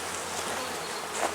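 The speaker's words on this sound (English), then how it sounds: "A good number of bees in there." Honey bees buzz inside a hive in a queen-rearing yard, a dense steady drone from many insects heard up close for a brief moment.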